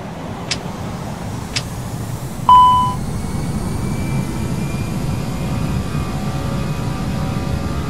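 Airliner taking off in a flight simulator: a steady engine roar with a couple of sharp clicks, then an electronic chime and tone as the rumble continues, no talk.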